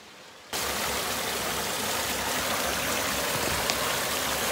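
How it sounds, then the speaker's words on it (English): A small creek runs through a culvert, starting abruptly and then holding as a steady, dense rush of flowing water. "this small creek, which is not flowing very well right now"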